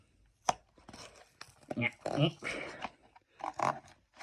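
Packaging for a 2025 metal collection Percy toy engine being torn and pulled open: a sharp rip, then several close bursts of crinkling, tearing and rustling in an irregular rhythm.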